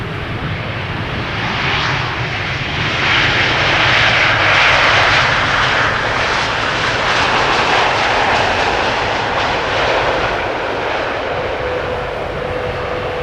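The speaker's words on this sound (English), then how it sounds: "This is Air Canada flight 900 arriving from Montreal in Canada" A loud Air Canada jet airliner, flight 900 from Montreal, roars steadily as it lands at Amsterdam Schiphol, the engine noise swelling and fading without any voices.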